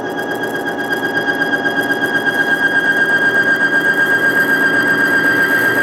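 A bearing squeals on a BG MOA bearing test machine: a sustained, piercing high whine holding one pitch over a gritty mechanical whirr, steady and close with a faint pulsing rhythm.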